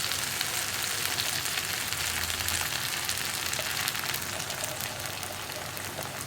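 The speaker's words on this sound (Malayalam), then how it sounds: "ഇനി നമുക്കിതിലേക്ക് മുട്ട ഒഴിച്ചു കൊടുക്കാം." Egg poured into a hot pan beside cooked vegetables, frying with a steady, close, even sizzle that holds throughout without any talking.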